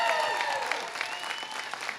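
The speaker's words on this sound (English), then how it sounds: "How about a big round of applause for Delta Airlines?" A crowd at an airport celebration for Delta Airlines' new non-stop flights to Amsterdam gives a burst of applause, steady dense clapping over a couple of seconds, with a faint tone ringing underneath.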